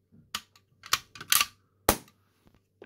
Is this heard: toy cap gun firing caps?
yes